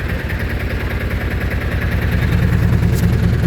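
A vehicle engine runs in a steady low idle with a rhythmic, throbbing pulse, growing slightly louder toward the end, close by and without voices.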